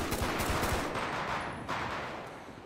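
Rapid bursts of automatic gunfire in the GTA V crime game rattle loudly and densely for a few seconds, then taper off, with no speech over them.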